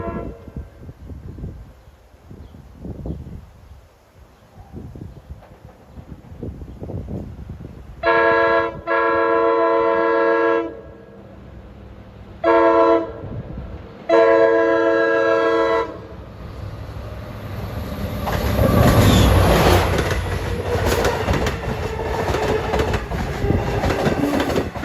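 A Long Island Rail Road train on the Port Jefferson Branch comes into Kings Park near Fox Interlocking, sounding three loud horn blasts, two long and one short between. A rumbling roar of wheels and rail noise follows as it passes close by.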